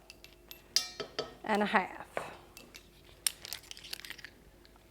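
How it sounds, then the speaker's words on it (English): Metal measuring spoons clink and rattle while baking powder is measured for a keto almond flour carrot cake, a few sharp metallic taps and jangles close by, with brief talk partway through. "So let me just get the right measuring spoon here."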